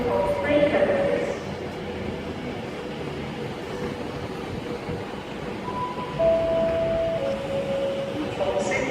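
A Class 350 train in London North Western livery at a platform at Crewe station, a low steady rumble with faint squeals and brief tonal whines, under nearby talk from people on the platform.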